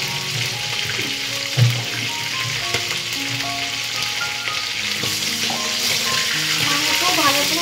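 Cumin seeds sizzle in hot oil for a chicken curry, a loud and steady frying hiss that runs on for several seconds, with occasional stirring and clinks from the pan and no talk.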